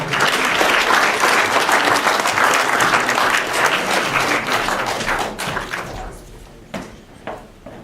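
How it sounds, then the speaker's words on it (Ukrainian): Audience applause at a ceremony honouring conscientious taxpayers, strong and sustained at first, then thinning out into a few scattered claps near the end. "Теж аплодуємо"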